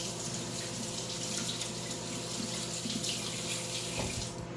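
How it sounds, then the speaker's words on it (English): A kitchen tap runs steadily as hands are washed under it, a constant near splash and hiss filling the whole stretch without pause. "let me wash my hand real quick"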